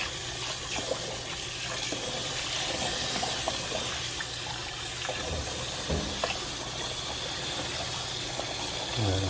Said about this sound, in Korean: 이제 물을 틀어줍니다